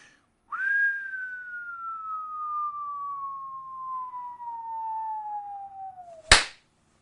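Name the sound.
whistle imitating falling bomb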